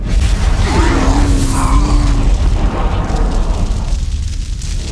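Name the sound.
Titan cannon firing in Warhammer 40,000 Dawn of War video game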